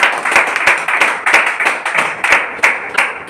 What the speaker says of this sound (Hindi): आप सभी लोगों के लिए एक बार जबरदस्त ताली होगी